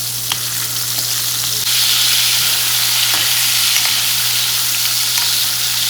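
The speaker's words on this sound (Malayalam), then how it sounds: "അതിന് വേണ്ടിയിട്ട് ഞാൻ ചെമ്മീൻ ആയി തന്നെ ഫ്രൈ ചെയ്തെടുക്കുകയാണ്" Steady, loud sizzling of shrimp frying in hot oil, a constant bright hiss with occasional small pops and crackles, no voices.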